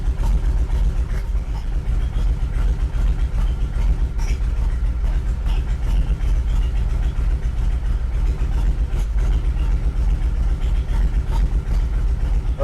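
A 2020 Harley-Davidson Street Glide with a 128 engine and an intake leak idles during an idle tune, a loud, steady, close low rumble with an even, lumpy pulse throughout.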